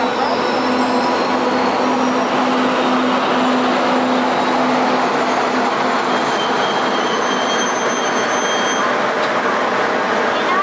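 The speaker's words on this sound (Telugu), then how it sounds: "ఎక్స్ప్రెస్ 3వ నంబర్ ప్లాట్ఫామ్ నుండి బయలుదేరుటకు సిద్ధముగా ఉన్నది." An Indian Railways express, the Dhanbad–Alappuzha, stands at a station platform, giving off a loud, steady rumble with a drawn-out metallic wheel squeal, while faint voices carry through the busy station.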